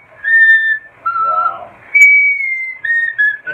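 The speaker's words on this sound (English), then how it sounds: "I've been practicing for a year or two on getting further up the scale and hitting whistle register" A singer reaches into whistle register on the opera piece from The Fifth Element, sustaining piercing, pure high notes in several separate phrases with short gaps between them, loud and close.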